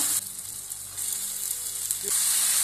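Brinjal (eggplant) sizzles in a pan with softened onion and tomato: a steady, moderate frying hiss with a soft bump as the pieces go in, and no talking.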